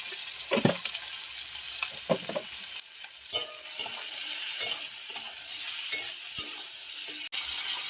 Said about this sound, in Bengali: নুন দিয়ে ভেজে নেব